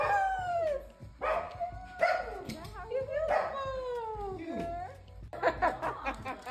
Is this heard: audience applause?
no